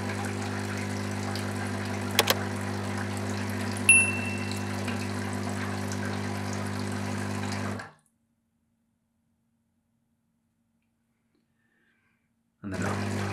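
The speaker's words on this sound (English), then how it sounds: "so now you move this to the hot water position, and it'll run the solution through the water tap" Descaling solution runs from the hot water tap of a Breville Barista Pro espresso machine, a steady pump hum and water flow for about eight seconds, then silence before the hum resumes near the end.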